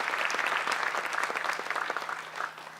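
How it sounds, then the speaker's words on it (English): Audience applause at a Freedom to Vote 2018 gathering, a dense steady patter of many hands clapping together, fairly close and sustained before tapering slightly at the end. "Please give him a round of applause"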